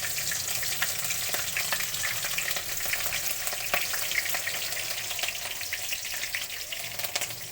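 Green chilies fry in a mustard seed tempering for an onion curry, making a dense, steady sizzle with frequent small pops and crackles. The sound is close and stays even throughout, with no talking.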